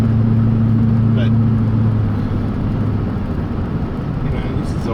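Ford XD Falcon V8 idling off choke, a steady, close engine rumble with a low hum that eases slightly partway through, with someone talking over it.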